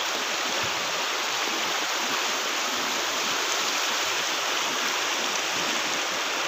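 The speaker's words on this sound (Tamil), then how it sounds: "தண்ணி கொஞ்சம் சொல்லப்போனால் அங்கே கொஞ்சம் ஸ்பீடாக தான் போகுது" The fast-flowing Rangeet river in Sikkim rushes in a loud, steady, close broadband roar, with no voices over it.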